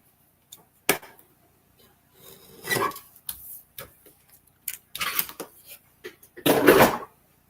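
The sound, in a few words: trimming cardstock for a slimline card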